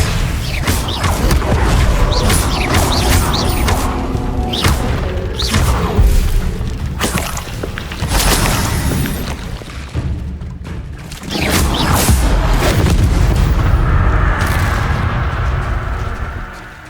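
Spell explosions in the Hogwarts Legacy video game: a rapid run of loud booms, thuds and crackling blasts that goes on for many seconds, eases briefly midway, then rises again into steady roaring impacts.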